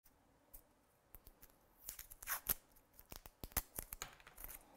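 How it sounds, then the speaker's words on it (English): Tape peels and tears off a roll to hold paper in place during a heat embossing craft. Scattered close crinkles and sharp rips build into a brisk burst of handling noise with no talking. "Let me just get some tape, hold it in place."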